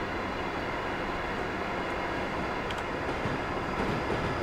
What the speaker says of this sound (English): That looks like a freight train.